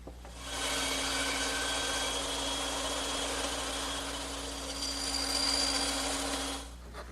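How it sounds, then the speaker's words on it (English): A bandsaw cuts an angled wooden tenon for a butler's table, a steady broadband whine that holds for about six seconds, close and even, with no talk. "And I'll make those cuts on my bandsaw."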